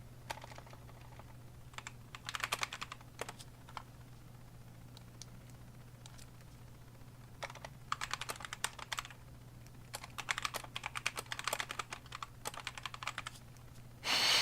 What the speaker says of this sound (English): Weird tiny mechanical keyboard is weird and tiny.